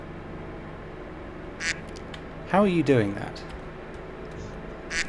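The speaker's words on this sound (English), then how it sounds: "Discord. Discord duck." The Discord duck quack sound effect: a couple of quick nasal quacks in the middle, with brief clicks and a person talking around them.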